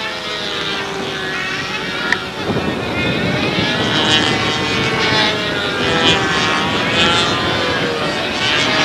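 A model P-47 aircraft flies overhead at a windy world championship, its engine making a steady buzzing drone whose pitch slowly shifts, with wind noise underneath throughout.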